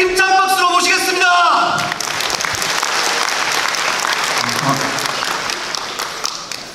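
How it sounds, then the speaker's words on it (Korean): Union members at an education session break into loud, sustained applause from a crowd, dense clapping that swells and then slowly tapers, with a speaker's amplified voice at the start. "동지 여러분의 힘찬 박수로 모시겠습니다."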